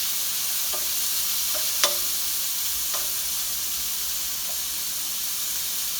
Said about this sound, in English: at least you can hear that sizzle